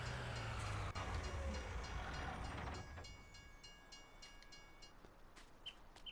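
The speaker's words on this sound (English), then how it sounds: "Just gonna park these right here without getting hit by the train." A train passing in Farming Simulator 19, loud rumbling wagons rolling close by for about three seconds, then fading into quieter mechanical clicks and rattles as it moves away.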